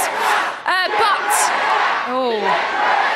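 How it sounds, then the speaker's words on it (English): A boisterous live TV studio crowd at a celebrity reality show eviction night roars and whoops, with sharp rising yells and cheers cutting through a dense, loud wall of crowd noise. "Listen to that crowd. They are baying for blood tonight."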